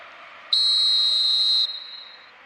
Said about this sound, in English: And the whistle goes for half-time.